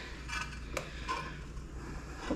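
Cast iron pans, a stack of small crepe or pancake pans including Wagner and Lodge pieces, being handled on an Alaska homestead, giving a few light clinks and knocks over a steady low background hum.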